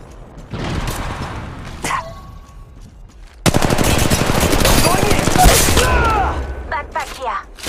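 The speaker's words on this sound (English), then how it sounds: "They're shooting at me!" Automatic gunfire in Apex Legends Mobile, a few scattered shots and effects at first, then a loud sustained rapid burst of fire that dominates the second half.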